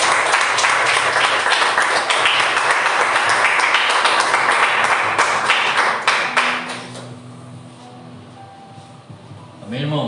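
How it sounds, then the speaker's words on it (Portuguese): A church congregation claps in praise with loud, dense, continuous clapping for about six seconds, which then fades to near quiet before a voice starts speaking. "E as palmas louvam o Senhor"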